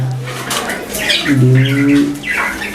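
A single soft, low cooing call from a white dove, close by, rising and falling once in a quiet setting.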